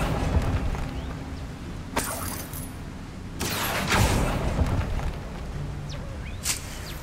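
An Accio summoning spell cast in the Hogwarts Legacy video game, heard as several sharp swishing bursts spaced across a steady low ambient bed, the middle one longer and fuller, with no talking.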